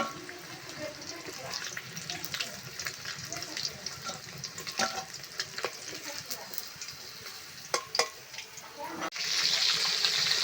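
Shol (snakehead) fish frying in hot oil in a village kitchen, giving a steady close sizzle with scattered clinks and scraping as the pieces are turned, and a louder hiss rising near the end.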